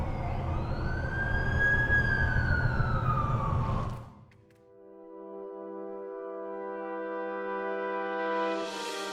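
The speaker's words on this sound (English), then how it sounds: "That's the ambulance I called." An ambulance siren in an Amazing Spider-Man video game wails in a rising and falling sweep for about four seconds, then cuts to sustained, slowly swelling music.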